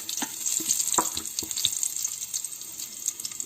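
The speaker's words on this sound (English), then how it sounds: "Whether the oil has become hot or not, I'm going to drop a piece of the onion slices" A slice of onion sizzles in hot oil in a wok, a steady bright hiss with a few soft crackles and pops, fairly close and alone.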